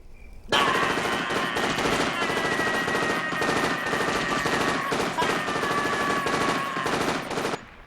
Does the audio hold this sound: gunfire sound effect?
yes